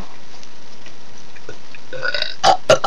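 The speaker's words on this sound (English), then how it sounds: "It has to be a big burp." A person forces out a big burp, ending in a few short, loud, raspy bursts after a quiet start. No one talks during it.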